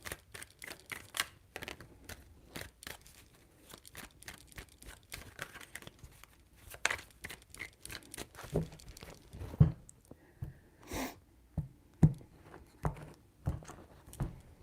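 Tarot cards being shuffled three times, a run of quick papery riffles and soft taps, then sparser flicks and card slaps, close and fairly quiet with no voices.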